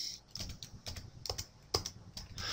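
Notes being typed on a computer keyboard: close, irregular bursts of keystrokes with brief pauses between, with no voices.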